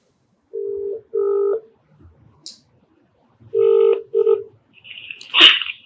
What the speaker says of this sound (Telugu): నాకు నెంబర్ కూడా షేర్ చేశారు, ఒకసారి కాల్ చేస్తానండి